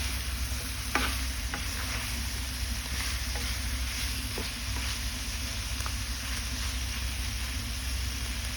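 Bitter gourd (ampalaya) being stirred in a frying pan, a continuous soft sizzle with faint scraping and light tapping from the utensil, steady and fairly quiet throughout.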